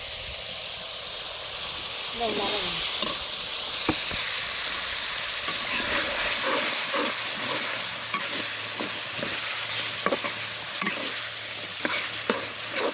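Shrimp and spices frying in oil with chopped banana stem added, a busy sizzle under repeated scraping and stirring strokes, close and steady, with some talk in the background.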